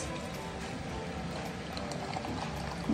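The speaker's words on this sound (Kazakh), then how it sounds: "Міне банканы толғанша қайнап тұрған суды құямыз." Steady pouring of boiling water into a glass jar of apple compote, a continuous close rushing splash with no voices.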